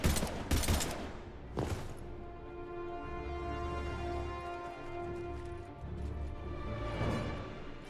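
Gunfire in the video game Mass Effect 3: a few sharp, loud shots crack in the opening seconds, then a quieter, droning battlefield hum with another faint shot near the end.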